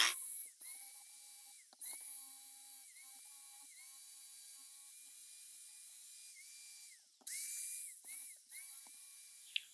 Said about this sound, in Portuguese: eu vou usar um papelão aqui na furadeira